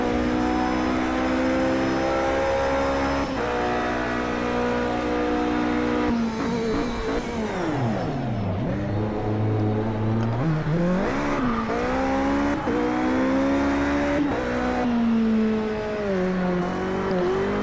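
A Toyota TS050 hybrid race car in the video game Project Cars 2 howls loudly as its engine revs rise and fall through gear changes, with one deep drop in pitch and a climb back up. It runs continuously and up close, with no speech.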